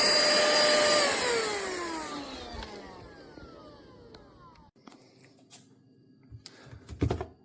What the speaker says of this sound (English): I love this new vacuum from pemacom.